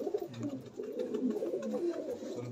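A female Saki Teddy pigeon coos softly and steadily, with low, repeated throaty murmurs close by.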